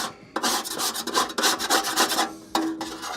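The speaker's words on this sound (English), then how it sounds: "Right in there, and you just scrape it off." Metal tool scraping burnt residue off a part of a Skywalker coffee roaster, close and loud, in repeated rasping strokes with a short pause before a final scrape.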